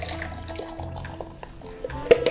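Turkey roasting pan juices are poured into a fat separator, a close, uneven liquid trickle and splash with small clinks, ending in a sharper knock of the pan.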